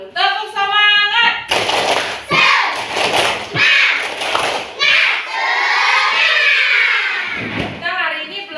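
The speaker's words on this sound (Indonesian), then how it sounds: "Sebelum belajar, biar tambah semangat, kita tepuk semangat dulu." A classroom of children doing a rhythmic spirit clap chant, loud, close voices chanting in unison, punctuated by bursts of clapping and thumps in a lively pattern.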